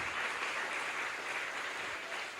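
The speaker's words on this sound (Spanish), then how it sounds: "Denle el aplauso al Señor porque Él va a levantar misioneros de esta iglesia" Congregation clapping in church, a steady even wash of applause, faint and distant, with no voices over it.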